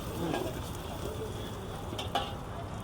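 Garlic fries and browns in a pan at a Chinese street-food stall in Botad while it is stirred. A faint, soft sizzle carries through the short stretch, with light stirring sounds and a few quick scrapes.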